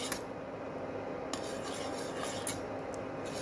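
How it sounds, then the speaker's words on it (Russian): A spoon scrapes and swirls through sauce in a saucepan, giving soft, continuous rubbing and stirring sounds with a few light clinks against the pan, quiet and close, with no talk. "И непрерывно помешивая соус, ждем, пока он закипит."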